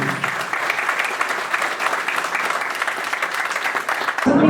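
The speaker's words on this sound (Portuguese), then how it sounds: "eu queria pedir uma grande salva de palmas para o SINTESP" An audience claps together at a union anniversary gathering, producing dense, even applause that holds steady for several seconds before cutting off abruptly near the end.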